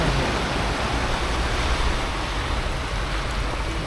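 Rushing water where a river meets the sea sends a loud, continuous broadband roar with no break, close by and heard on its own.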